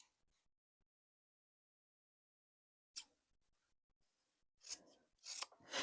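Scissors trim the edges off quilt fabric pieces, near and fairly faint. A couple of soft snips are followed by a pause, then a run of rustling cuts and fabric handling that grows louder toward the end.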